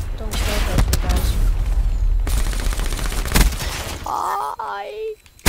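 Bursts of gunfire and impacts from a Call of Duty Black Ops 3 multiplayer match crackle loudly, then thin out near the end into a short electronic tone, with a player's voice in the mix.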